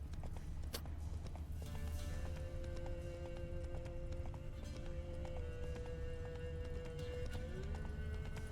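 A horse gallops in the video game The Witcher 3, its hoofbeats forming a steady, rapid clip-clop under continuous game ambience and a low hum.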